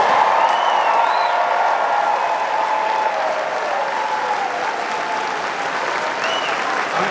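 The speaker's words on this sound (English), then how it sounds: "let's take a moment and give a grateful round of applause for our first responders" A rally crowd applauds first responders with sustained, dense clapping and a few scattered whoops and cheers, loud and continuous for the whole stretch, no speech over it.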